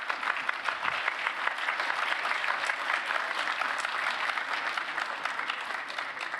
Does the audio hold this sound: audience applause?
yes